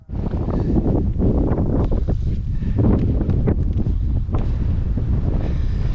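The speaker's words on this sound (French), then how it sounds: "il y a vraiment trop de vent" Strong wind in New Caledonia buffets the microphone in continuous heavy roaring gusts, loud and unbroken throughout, with no voices.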